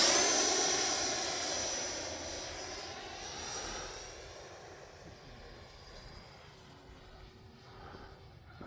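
An RC fighter jet model flies overhead during a flying session, its loud rising whine and roar peaking early, then fading into a distant drone as it passes away.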